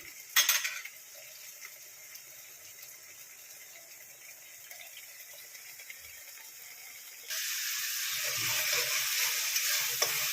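White chicken korma sautéing in oil in a pan, a soft sizzle at first that jumps to a louder, brighter frying hiss partway through, with faint stirring scrapes underneath.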